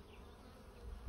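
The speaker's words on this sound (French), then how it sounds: "Donc c'est une ruche en bonne santé." Honeybees buzz inside an open, healthy beehive crowded with bees, a soft steady hum close by with a faint thump at the end.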